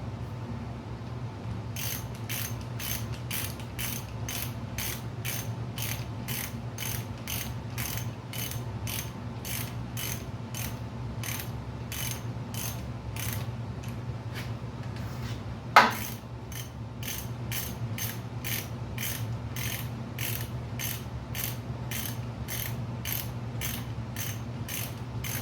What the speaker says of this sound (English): So when I'm torquing these, I like to start from the middle and then work my way to the outside